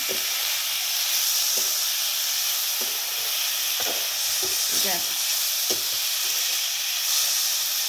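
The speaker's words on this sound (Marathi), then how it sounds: "थोडं परतून घ्यावं लागत असेल" Food sizzles and fries steadily in a pan over a village wood-fired chulha stove while a mixed sprouted-bean (matki) curry is sautéed, with short scraping stirs breaking through the continuous hiss.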